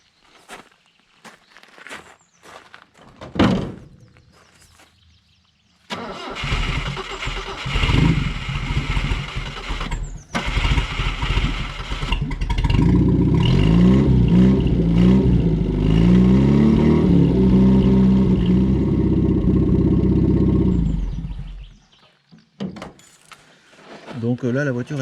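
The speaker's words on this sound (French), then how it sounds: "Donc petit démarrage des familles pour que l'huile soit chaude" A 1967 Toyota Corona RT40 engine cranks and catches after a few clicks and clatters, then idles and runs steadily for about fifteen seconds before shutting off, heard close up.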